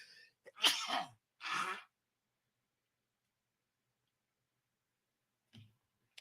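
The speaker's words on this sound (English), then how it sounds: "I got to sneeze and blow my nose at the same time." A sharp sneeze bursts out, followed quickly by a forceful nose blow, then near silence with a faint rustle at the end.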